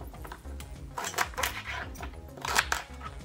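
Chopped raw vegetables and lime tossed by hand into a Vitamix blender jar, landing in a quick run of hard clatters and knocks against the container, close and fairly loud.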